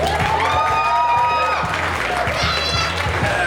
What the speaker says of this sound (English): And a round of applause for the Monkeephiles